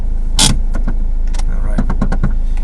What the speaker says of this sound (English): park the car right now